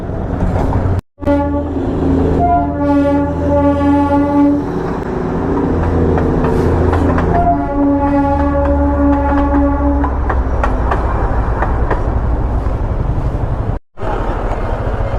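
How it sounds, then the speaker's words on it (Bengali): Darjeeling toy train at its station in a cloudy hill town, wheels clattering steadily past while the horn sounds repeatedly in long, loud tones, close and dominant throughout. "কপালে ছিল তাই টয় ট্রেনটা দেখে নিলাম"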